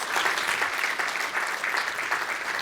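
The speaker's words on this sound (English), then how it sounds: "let's give a round of applause to Adam" An audience at a government forum on emerging technologies gives a round of applause, a dense, steady clapping that carries on throughout with no talk over it.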